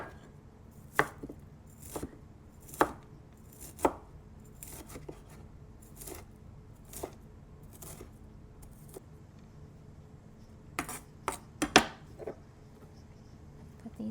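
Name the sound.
chopping bean sprouts with a knife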